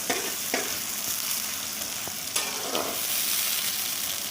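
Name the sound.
onions frying and being stirred in a pan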